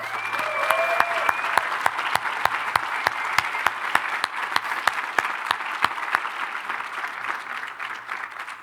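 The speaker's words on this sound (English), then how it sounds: "please join me in a round of applause for all the people who have supported your journey to and through" Sustained applause from a graduation ceremony audience at UWC-USA, a dense wash of many clapping hands with a few sharp nearby claps standing out, steady throughout and fading slightly toward the end.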